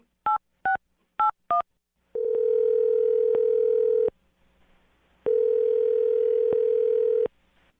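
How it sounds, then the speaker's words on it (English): A phone number is dialed with four quick DTMF keypad beeps, then a steady dial-type tone sounds twice in long stretches separated by a short gap, clear and close with no talking. "I'm going to dial the phone number right now"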